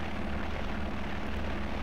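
Aircraft engine in the X-Plane flight simulator game, a steady droning hum with a low pulsing rumble, even in level and constant throughout with no talk over it.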